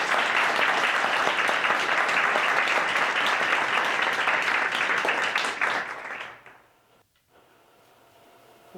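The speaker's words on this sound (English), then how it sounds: "Please give another round of applause for beautiful stories told by others." Theater audience at a school showcase gives a loud, sustained round of applause that fades out after about six seconds into near silence.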